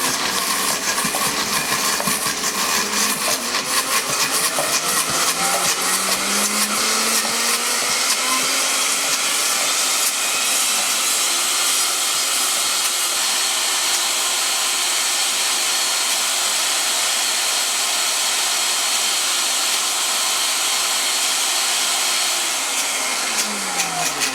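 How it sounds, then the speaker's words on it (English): A blender on its puree setting runs continuously at high speed, a loud steady whir with a slowly shifting motor pitch, no one speaking. "you want to set your blender to puree, and we're going to puree till it's smooth"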